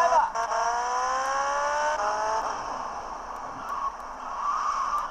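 Car drifting in GTA Vice City, its tires squealing in long rising and falling whines over a steady engine drone, close and loud, fading into a lower rumble toward the end.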